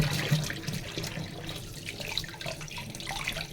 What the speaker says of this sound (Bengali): সরপুঁটি মাছগুলো বেশ বড়, ধুয়ে নিয়েছি, আর একবার ধুয়ে নিলাম।